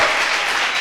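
A church congregation at a worship service claps loudly for the Lord, a short burst of thick, continuous applause filling the room with no voices standing out.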